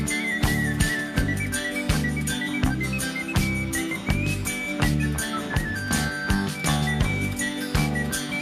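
Melodic whistling carries a tune over a full band mix of steady drums and backing instruments in a song, holding a bright, sustained line throughout.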